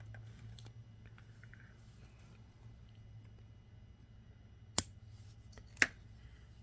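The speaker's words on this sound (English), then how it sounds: "I think I'm going to just trim this off here." Two crisp, separate snips of scissors trim off leftover material while key rings are being made, over a quiet steady background hum.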